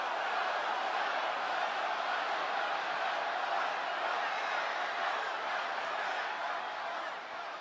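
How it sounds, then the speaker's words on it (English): A large wrestling arena crowd at a WWE SmackDown show roars in a dense, sustained wall of voices, with chanting blended into the steady noise before it dips slightly at the end. "Big gas from the crowd, and a nice big no chant starts rocking out."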